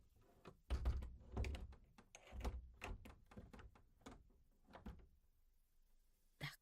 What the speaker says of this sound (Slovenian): Zaklenili bova vsa vrata, da ne bo mogel v hišico.